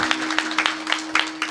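Sparse, uneven clapping from an audience at a comic kirtan performance greets the singers, with scattered hand claps over roughly a second and a half and a faint steady hum underneath.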